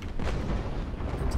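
Rolling booms of ship cannon fire in the naval game Naval Action, several heavy shots close together, loud and reverberant with no voices.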